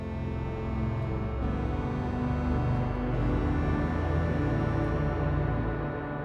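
Sonicware Texture Lab granular effect processor pitched an octave down with grains playing in forward direction, giving a dense, continuous low-heavy wash of layered grains at a steady, fairly loud level with no pauses.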